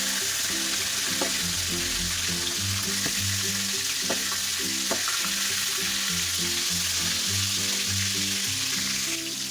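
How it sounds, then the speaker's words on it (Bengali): Pointed gourd pieces, seasoned with a little turmeric and salt, sizzle in hot oil in a pan, a constant bright crackle with a few soft clinks and stirring knocks as the pieces are turned. "আমি উল্টে দিচ্ছি আর একটু ভাজা হওয়ার জন্য"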